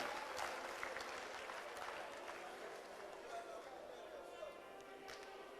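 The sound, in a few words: applause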